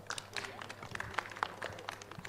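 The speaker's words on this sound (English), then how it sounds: "A clap for them." Audience clapping for the speakers at a Taiwan-ASEAN pest and disease surveillance network meeting, a scattered irregular patter of hand claps at moderate volume, some sharper claps standing out.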